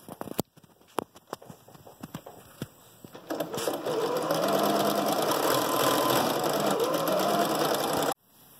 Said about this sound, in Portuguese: Então agora nós vamos na máquina passar uma costura aqui e outra costura